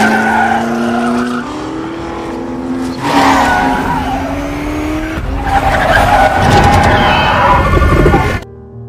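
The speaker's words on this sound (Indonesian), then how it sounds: "Carroll lalu mengajak Henry mencoba mobil balap Ford yang dia bangun bersama timnya" A Ford race car on a test drive, its engine roaring loud and close as it climbs through gears, with tires squealing and skidding under hard cornering before the noise cuts off.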